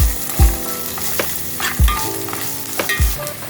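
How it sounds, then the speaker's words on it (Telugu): Golden brown onions fry with turmeric, chili, coriander and cumin powders for an Andhra mutton curry, a steady close sizzle broken by a few loud scraping stirs of the spoon against the pan. "ఉల్లిపాయలు గోల్డెన్ బ్రౌన్ కలర్ వచ్చాక పసుపు, కారం, ధనియాల పొడి, జీరా పొడి వేసుకుని కలుపుకోవాలి."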